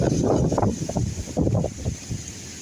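Strong typhoon gusts under Storm Signal No. 5 buffet the microphone in loud, rumbling bursts, rising and falling several times, along a national highway in Gonzaga, Cagayan, Philippines.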